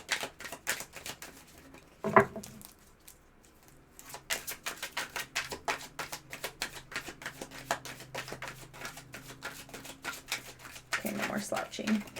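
Tarot cards are shuffled and pulled, making rapid papery riffling and flicking clicks in quick bursts with a few pauses and one sharper snap, close to the listener.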